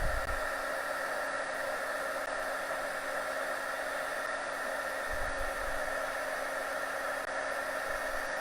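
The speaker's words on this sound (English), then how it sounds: "what I normally do is I let the heat tool warm up a little bit" Handheld heat tool for embossing powder running steadily, a constant close whooshing blower hum with an electric whine, alone with no talk.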